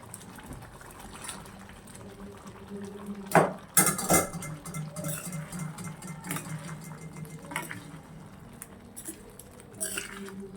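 Chickpeas are tipped into a thick gravy for restaurant-style chole and stirred in the pot. A couple of sharp metal clanks of a spoon against the pot lead into steady, close scraping and soft liquid churning, with no voices.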